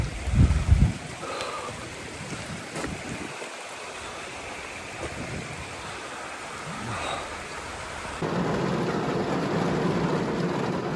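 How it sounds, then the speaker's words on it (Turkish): Heavy rain pours down at a muddy campsite, a steady broadband wash with occasional louder splashes, intensifying in the last few seconds with no talk. "Gördüğünüz gibi arkadaşlar öyle bir yağmur başladı ki çadıra bile girmek nasip olmadı."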